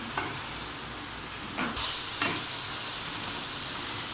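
Steady sizzling of ginger garlic paste frying in a hot pan, with a few scraping stirs and a sudden louder hiss partway through.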